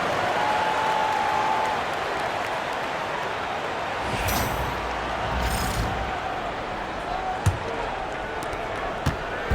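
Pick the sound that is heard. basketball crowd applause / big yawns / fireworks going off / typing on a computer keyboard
basketball crowd applause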